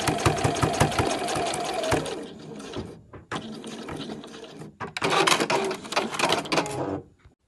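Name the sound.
sewing machine sewing towelling headband end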